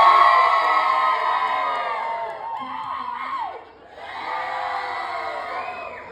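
A crowd on deck 4 of a cruise ship cheering a baby race, sustained whoops and high children's and adults' shouts that dip briefly, then swell again, loud and continuous.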